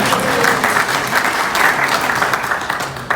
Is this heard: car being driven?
no